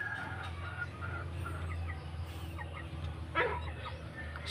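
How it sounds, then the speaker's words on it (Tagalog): Rhode Island Red and broiler chickens, incubator-hatched and kept on a farm range, cluck softly and intermittently over a steady low hum, with one sharper squawk near the end. "itong mga Rhode Island Red na sa akin mga ka-farming ay pisa po ito sa mga incubator natin"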